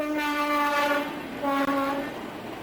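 Two long steam train whistle blasts sound over a steady rumble of rolling rail cars, the second blast slightly shorter than the first.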